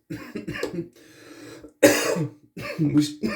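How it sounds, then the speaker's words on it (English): Several harsh coughs in a fit, loud and close, a dry hacking burst in the middle with breathy sounds around it. "We're still dealing with the cough, as you can tell."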